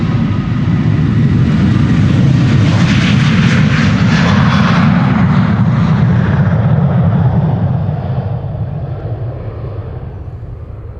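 A UB Airlines airliner bound for Erbil roars close by on departure at Amsterdam Schiphol, its jet engines a loud, broad rumble and hiss that swells, holds, then slowly fades as it moves away.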